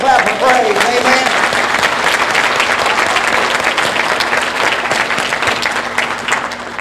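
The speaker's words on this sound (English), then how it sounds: "Give God a hand clap of praise" A church congregation claps in praise during Sunday morning worship, a loud, dense burst of applause that carries steadily for several seconds before easing slightly at the end.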